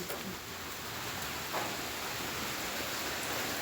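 Rain falling steadily, a dense close hiss of drops with a few brief taps, continuous and without speech.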